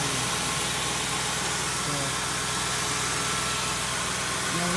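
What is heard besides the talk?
2002 Mercury Grand Marquis 4.6 V8 two-valve engine idling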